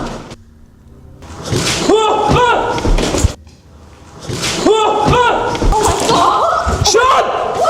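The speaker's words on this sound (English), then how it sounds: "Did the door close? Yep. It tried to shut me in there." A door slams shut on its own inside an abandoned building, a sharp heavy bang cutting through excited voices talking over it at close range.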